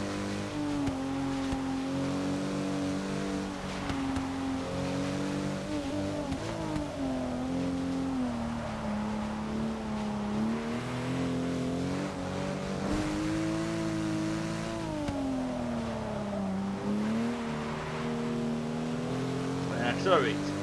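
Racing car engine in Forza Motorsport 6, droning steadily and rising and falling in pitch as it revs and shifts through gears, with someone talking over it throughout.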